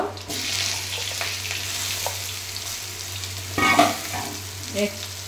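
Potatoes frying in a pan as vegetable stalks are added, a steady close sizzle with stirring and scraping, plus a few louder clatters and bursts near the end.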